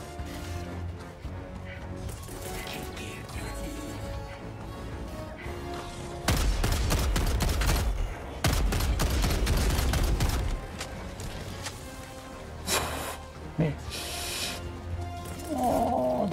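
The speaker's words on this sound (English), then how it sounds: "We got the autocannon." An autocannon sentry in Helldivers 2 fires in loud, heavy bursts of rapid booming shots, with quieter spells of game noise and scattered impacts between volleys.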